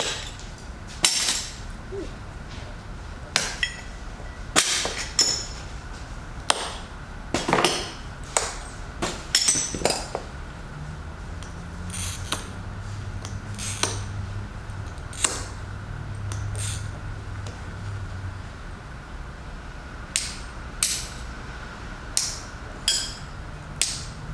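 Scored glass is snapped apart by hand, giving sharp, isolated cracks and ticks scattered irregularly through a quiet room, with a low rumble partway through.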